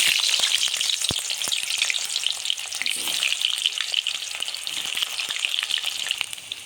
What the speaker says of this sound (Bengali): তেলটা গরম হয়ে গেল, আমি এবার আলুগুলো ভেজে নিই।